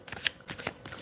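Tarot-style reading cards shuffled close up for a live card reading, with three quick riffling bursts inside about a second and no voices.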